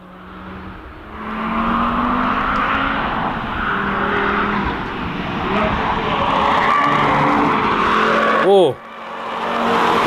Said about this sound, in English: the driver is making those tires squeal